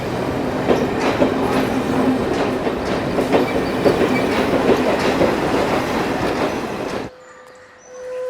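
A train pulls away with a loud, continuous rumble and rhythmic clickety-clack of wheels on rails, faint squeals mixed in, before the sound abruptly drops to a quiet hum.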